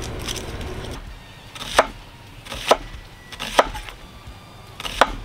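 Onions are sliced for grilling on a board with four evenly spaced, crisp knife chops about a second apart, close and clear over a quiet background.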